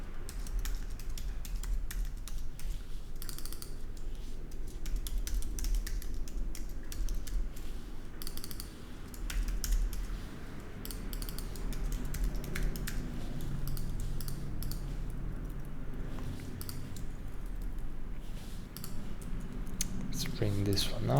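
Steady rapid typing on a computer keyboard while designing a dashboard interface, fairly quiet and continuous throughout with a faint background hum.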